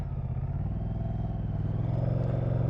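A 2023 Moto Guzzi V100 Mandello motorcycle pulls away with a steady, loud low engine drone that rises gradually in pitch and level as it gets under way, with no talk over it.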